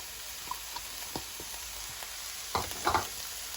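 Mushrooms, Chinese leaves and sliced carrot ribbons stir-fry in a pan with a low steady sizzle, broken by a few soft scrapes and clatters from stirring, the louder ones near the end.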